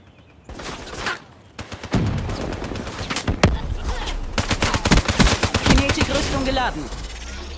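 Bursts of Call of Duty Black Ops 3 multiplayer gunfire, rapid automatic shots and loud single cracks, crowd together over several seconds with a voice briefly underneath.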